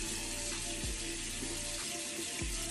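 Steady water from a bathroom tap running while a face is rinsed after a scrub, a continuous close hiss with a few small splashes and no talking.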